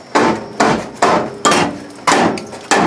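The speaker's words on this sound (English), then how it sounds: "Get myself a big hammer. Let's see if I can pound it out from the other side." Heavy hammer blows pounding a tight torsion bar out of a Plymouth Duster crossmember during restoration: six loud, ringing strikes spaced about half a second apart, close up, no talk.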